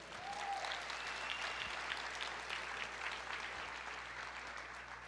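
A church congregation applauding, a continuous even roar of clapping from a large crowd, heard at moderate distance and quite faint overall, with no voices over it.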